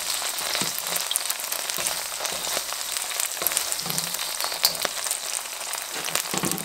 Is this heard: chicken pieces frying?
yes